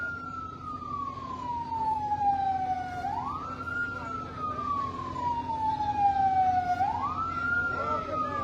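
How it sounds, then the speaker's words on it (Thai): Fire truck siren at a building fire in Tha Khaek, a clear wailing tone that sweeps down slowly and then jumps back up, repeating in long cycles over a steady background hum. "รถดับเพลิงมาแต่คันเดียวตรงนี้"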